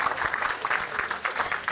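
A short burst of applause from a small group, with quick overlapping claps lasting under two seconds.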